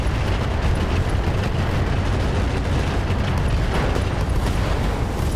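A mech blowing apart in the Roguetech BattleTech game, a loud sustained roar of explosion and debris rumble filling the whole stretch at steady high volume with no voices.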